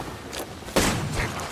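Gunfire in the video game Apex Legends: a few sharp, loud bursts, with the heaviest one close by near the middle, over a steady background of game noise. No one speaks.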